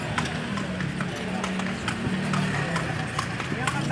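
Horse hooves clip-clop steadily as a horse pulls a calesa along a street in Vigan, a continuous rhythmic clatter mixed with street noise and people talking nearby.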